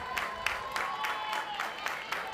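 Crowd at a college softball game between Arkansas and Mississippi State, a steady roar of cheering and clapping swelling in repeated bursts, with a commentator talking over it.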